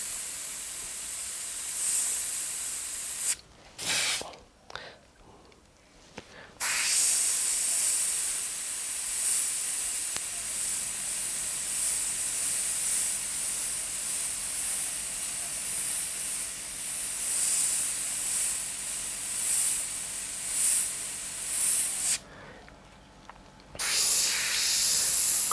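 An airbrush or spray gun hisses steadily while paint is sprayed onto a racing driver's helmet, long continuous bursts of close, bright spray broken by a few short pauses.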